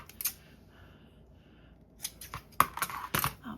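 Rag rug fabric being torn into strips by hand, a few short sharp rips and snips in quick succession toward the end after a quieter stretch, close and fairly faint.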